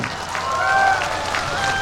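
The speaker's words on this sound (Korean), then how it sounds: "박수 한번 주십시오" Crowd applause at the 55th Yeongdong Nangye Gukak Festival, a steady wash of clapping from a large outdoor audience, with faint sustained tones running through it.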